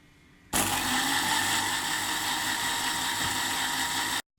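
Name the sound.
electric blender blending crepe batter of flour, milk, butter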